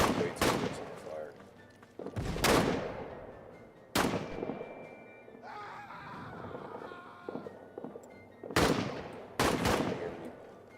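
Gunfire in a war video game fought around enemy trenches, with loud sharp bursts at intervals between quieter stretches of battle noise and player voices.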